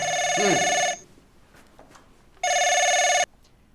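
Two bursts of an old telephone bell ringing, loud and close, each about a second long with a pause between, in an Urdu comedy scene; a short voice-like chirp sounds during the first ring.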